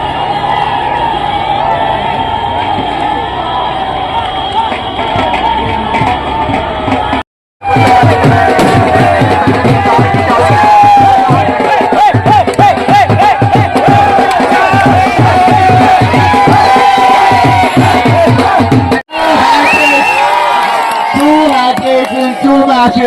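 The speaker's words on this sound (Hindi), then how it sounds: "यहाँ दर्शकों की भीड़ देखिए, सारे दर्शक खुश।" A large crowd of spectators at a football tournament final on Khuddeshwar ground, Pabau, roars and cheers in a dense, continuous wash of voices, with shouts and whoops rising out of it and two brief drops to silence.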